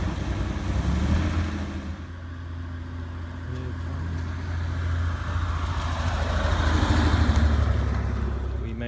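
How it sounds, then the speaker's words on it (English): A Jaguar E-Type engine runs rough with an ignition coil fault, a low uneven rumble that sags and surges as it struggles, swelling louder near the end while traffic noise sits in the background. "Car's conking out, wants to die, it's not running on any cylinders."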